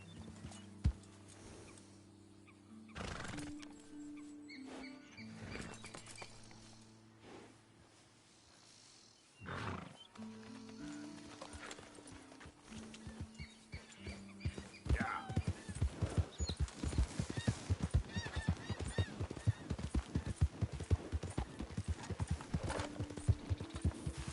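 Horse hooves clip-clop in Red Dead Redemption 2, starting sparse among game music and ambience, then breaking into a fast, loud, steady galloping rhythm for the final stretch.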